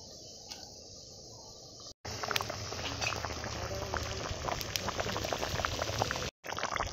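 Meat boiling vigorously in added hot water in a large pot, a dense, steady bubbling and popping, close and continuous, with a quieter stretch at the start and brief dropouts.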